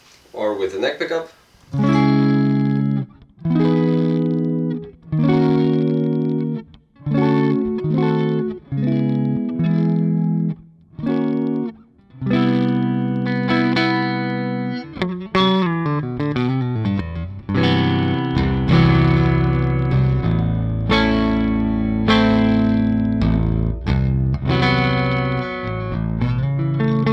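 A clean electric guitar on the neck pickup with a warm, round tone plays strummed chords and quick note runs up close, followed by sustained ringing chords.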